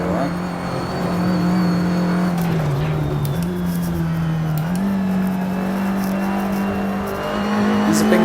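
Race cars lapping the Brands Hatch circuit, heard as a continuous close engine drone that dips and rises through corners and gear changes, with faint wind and mechanical noise around it.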